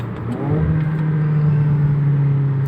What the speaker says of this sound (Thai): เวลาเชนเกียร์ลงอ่ะ รอบมาเบิ้ลรอให้เลย